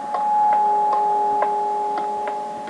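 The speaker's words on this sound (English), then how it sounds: "that noise is that I found a cave basically" Cave ambience in Minecraft on Xbox 360: a steady, droning layer of sustained tones runs throughout, broken by soft, evenly spaced ticking clicks at a moderate level, with no voices.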